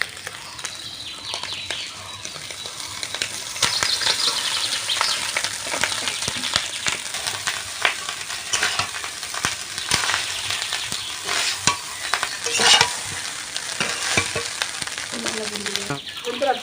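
Cooked minicket rice, thin fine grains, stir-fried in a hot pan with previously fried onions, gives a steady, close sizzle with intermittent scraping and tossing clatter, continuous throughout.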